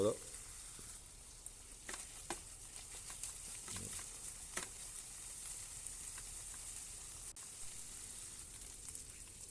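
Corned beef sautéing in a pan with malunggay leaves, stirred steadily: a continuous close sizzle runs throughout, with scattered scrapes and knocks of the utensil against the pan.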